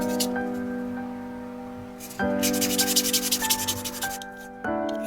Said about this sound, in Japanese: スポンジやすりで積層痕を大まかに取り除いた。